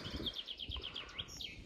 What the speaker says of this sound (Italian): Sentite il canto degli uccellini.